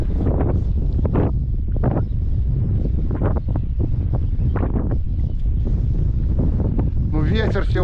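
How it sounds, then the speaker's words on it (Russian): Strong wind at a lake buffets the microphone in heavy, continuous low roaring gusts, loud and close, with brief voices talking under it. "Ну ветер сегодня, конечно, конкретный."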